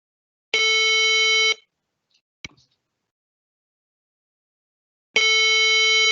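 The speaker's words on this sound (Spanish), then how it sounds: "Voy a adelantarlo para que vean la diferencia entre tiempo de pitido a pitido en niveles en breves más momentos avanzados." Two long electronic tones from a walking-test audio track, roughly a second each and about four and a half seconds apart, with a brief click between them in an otherwise silent room; the test's beep intervals shorten at higher levels.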